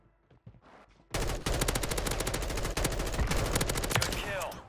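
Rapid automatic gunfire from an M4 in the Warzone video game rattles out in a loud, sustained burst of close shots after a brief quiet start, with a faint voice underneath.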